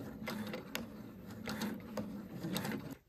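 A sewing machine stitching fabric for a handmade handicraft bag, quiet close mechanical whirring broken by rapid regular ticking clicks of the needle.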